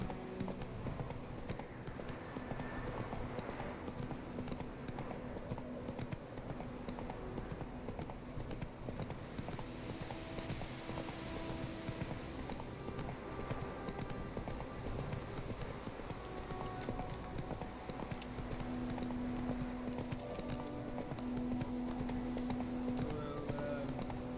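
A horse gallops in The Witcher 3 video game, with a continuous quiet clip-clop of hooves under a game soundtrack. A few soft hums sit over the hoofbeats.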